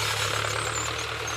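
A tractor engine runs on a village farm field, a steady low idling drone with a continuous hum and faint higher whine, close and unbroken.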